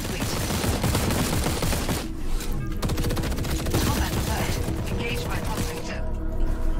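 Rapid, continuous gunfire in a shooter video game, dense and loud throughout, with a voice talking over the shooting.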